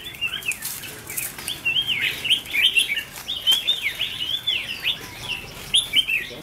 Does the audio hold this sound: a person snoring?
no